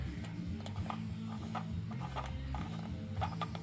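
A stainless breather bolt is threaded by hand into a Harley intake, producing a steady close metallic ticking and ratcheting with a low mechanical hum underneath and no speech.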